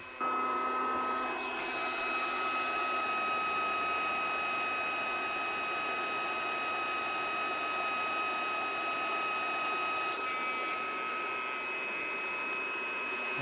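A Solary H7 induction heater doing surface heating gives a steady electronic hum with high whining tones that runs unbroken at moderate level.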